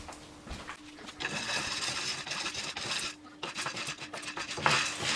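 Dry soybeans (bhatta) roasting in a pan, heard as a steady rattling, scraping patter of beans tossed against metal, rising and falling in dense bursts at moderate volume.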